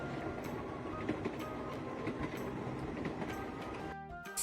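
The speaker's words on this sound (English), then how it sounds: "Here comes a train." A train rolls steadily along the tracks with a continuous rumble and faint rhythmic clatter, close and loud throughout, ending in a brief higher-pitched mechanical tone.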